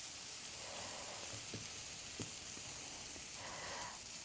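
Blueberry oat pancakes cook in a pan with a soft steady sizzle, faint and continuous, with a few small pops and crackles scattered through it.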